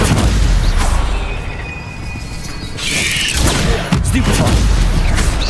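Stupefy spells are cast in Hogwarts Legacy, a series of heavy booming impacts and crashes during combat, loud and close, with a short whooshing flare in between.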